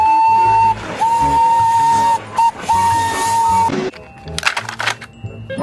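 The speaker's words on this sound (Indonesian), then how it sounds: "Wow, ini ada kereta Thomas teman-teman." A toy Thomas steam train whistle toots in long shrill blasts, pausing briefly between them, followed by clattering noises near the end.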